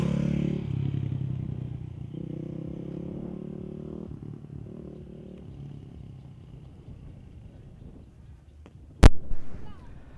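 Supermoto motorcycles leave the pit lane at a qualifying session of the 2017 FIM Asia Supermoto Championship at a Thailand circuit. Moderate engine rumble and drone fades over several seconds, followed by a sharp click and a brief clatter near the end.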